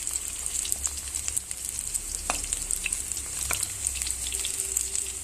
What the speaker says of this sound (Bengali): এবার মুইঠাগুলো আমি হালকা করে ভেজে নেব